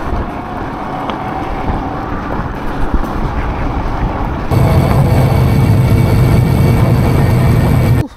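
A Windhorse D5 electric vehicle, a 1000 kW machine, drives off-road with a steady rumbling, wind-buffeted roar that grows louder and fuller partway through, then cuts off abruptly at the end.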